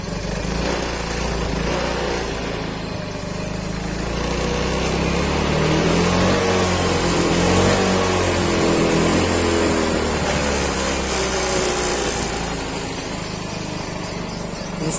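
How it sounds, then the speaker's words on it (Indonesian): A Yamaha Soul GT scooter engine, tuned after an idle and starting fault, runs with a buzzy small-engine drone that swells as the throttle opens, holds higher through the middle, then settles back, close and loud. "Udah halus mesinnya. Coba geber gasnya."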